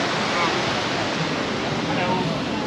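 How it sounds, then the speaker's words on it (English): Sea waves break on the beach at Benalmadena, a loud continuous wash of surf and spray rolling without pause, heard close with a faint voice underneath. "the waves are a little bit exciting by Mallorca standards"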